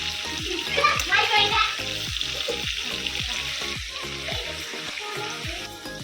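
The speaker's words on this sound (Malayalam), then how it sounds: "നമ്മൾ എണ്ണ ചൂടായിട്ടുണ്ട്, നമുക്ക് ഒന്ന് ഫ്രൈ ചെയ്യാൻ കൊടുക്കാം" Chicken fries in hot coconut oil with a steady close hiss and bubbling, punctuated by regular low knocks of a utensil against the pan; faint voices murmur in the background.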